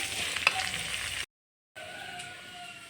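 Steady sizzling of finely chopped knol khol (kohlrabi) sautéing in a pan, with a brief stir and a short gap of silence midway; no voices.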